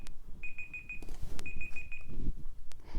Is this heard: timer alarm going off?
yes